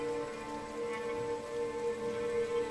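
Heavy rain hisses steadily outside a remote inn in a Tang-dynasty period drama, an even wash of sound with a faint tonal hum beneath and no voices.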